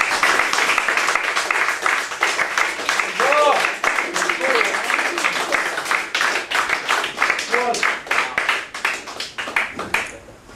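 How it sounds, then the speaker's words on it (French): Applause for the guest singer at a live concert, dense rhythmic clapping from a crowd that swells and then tapers off, with a few voices and cheers mixed in. "vous pouvez l'applaudir encore très fort"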